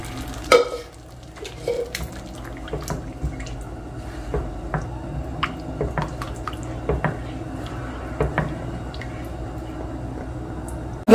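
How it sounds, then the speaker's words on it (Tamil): A thick curry bubbles and simmers in a pan, with soft wet pops and occasional stirring scrapes, steady and close. "நல்லா கொதிக்க ஆரம்பிச்சிருச்சு"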